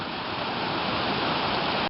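A creek running high with water roaring along, a steady, loud, unbroken rush of broadband noise heard up close with no voices.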